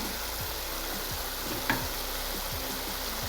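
Potatoes and cabbage, seasoned with turmeric, fry in a pan for a Bengali-style cabbage dish, giving a steady, soft sizzle throughout with one brief clink partway through and no talking.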